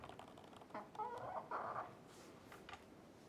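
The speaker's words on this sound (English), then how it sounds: "So there's a chicken on my gun." A chicken perched on an airsoft rifle clucks softly in a few short, low-level calls against faint background noise.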